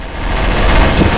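A turret in Trouble in Terrorist Town fires its machine gun in a loud, continuous rapid burst that holds steady for the whole moment, with no talk over it.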